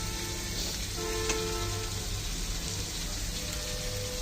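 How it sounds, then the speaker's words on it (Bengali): Onions frying in a pan, a continuous soft sizzle with faint crackles that holds steady at moderate loudness and includes a brief tonal hum, with no one speaking. "আমি একটু ভালো করে পেঁয়াজগুলো ভেজে নেব।"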